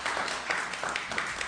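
An audience at a Sacramento hunger-action gathering gives a brief, even burst of applause, a short wash of many hands clapping together.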